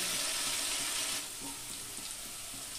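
Potatoes frying in hot oil on high heat for a mutton curry, a steady bright sizzle that is loud at first, then settles into a softer, continuous crackle.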